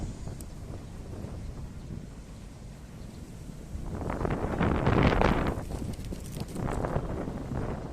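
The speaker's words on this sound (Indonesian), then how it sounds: "Angin sini sangat seger." Outdoor wind in Kota Tua, Jakarta, buffets the microphone with a low rushing roar that swells strongly midway, then eases into steady gusts.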